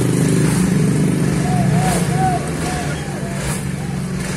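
A Honda CB150R motorcycle engine runs during a power test after a clutch plate replacement, giving a steady, close, loud drone that eases slightly in level about halfway through.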